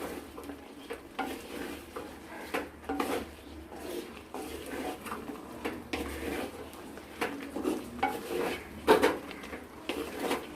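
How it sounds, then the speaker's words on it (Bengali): Chicken kosha is stirred in a clay pot, giving scraping and clacking strokes of a spoon against the earthenware with a soft sizzle underneath. "এবার আমরা ঢাকনাটা খুলে আবার একটু নাড়াচাড়া করে দেব।"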